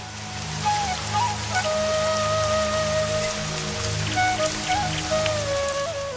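Steady rain patters over the misty early-morning greenery of the Kadambrayar eco-tourism spot, a constant close hiss, with thin birdsong whistles and a low background hum threaded through it.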